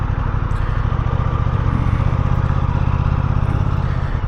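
An Aprilia sport motorcycle, an RS660 or RS457, runs close by with a loud, steady engine rumble and a fast, even throb, with no voices over it.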